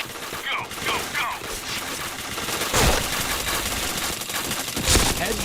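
Rapid bursts of gunfire in the Point Blank shooter game crackle in dense, rattling volleys, with a couple of louder impacts standing out. A player's voice is heard over the shots.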